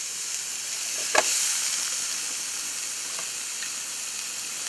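Peppers, onions and bratwurst sizzle in a pan with a steady hiss, broken by one sharp pop or clatter early on and a few faint spatters later.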